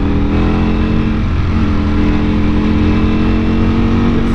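A 2020 Ducati Panigale V4 engine revs hard and close, holding near 7,000 RPM as it climbs through the gears. The loud, steady tone shifts pitch briefly mid-pull, with wind rushing underneath.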